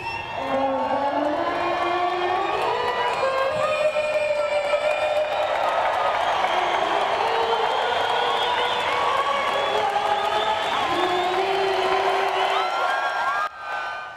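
A stadium crowd at Wrigley Field cheers and whoops after a teenage girl sings the national anthem, a sustained, dense roar of many voices with rising yells throughout.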